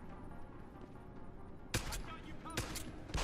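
Gunfire in the Deus Ex video game as a silenced pistol is used: after a stretch of quiet game ambience, sharp broadband shots crack out, one loud report followed by a couple more close, clipped bursts.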